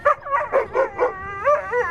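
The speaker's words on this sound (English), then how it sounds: "he shows absolutely no fear even when two dogs are barking right at him." Two dogs bark and yelp repeatedly at a sea lion, sharp howling barks coming close together at moderate loudness with no talk over them.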